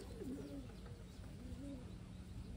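Pigeons cooing softly in a loft or coop, with several low rolling coos over a steady background hum; faint and fairly close, no speech over them.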